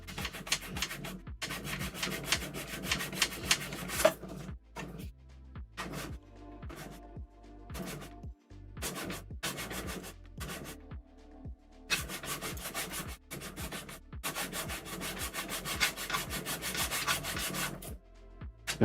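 Coarse sandpaper rubbed over a B-36 model kit in close, rhythmic bursts of rough scraping strokes separated by short pauses, with no talk.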